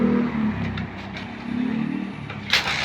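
A Kawasaki Bajaj CT 125 motorcycle that sat unused for five months, fitted with a Honda Supremo ignition part, starts up and idles with a steady close engine drone, a few light revs and a brief clatter.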